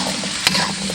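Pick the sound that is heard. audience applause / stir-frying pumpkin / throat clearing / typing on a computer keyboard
stir-frying pumpkin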